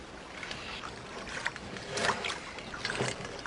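A small boat is rowed with oars, the blades dipping and pulling through the water in a steady rhythm of soft splashes and swishes about once per second, close by, with no talking.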